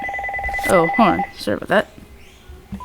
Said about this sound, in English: Yeah, that was a phone call.